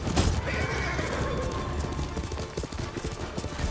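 A horse whinnies loudly amid galloping hoofbeats and scattered gunfire in a busy scene from the video game Ghost of Tsushima.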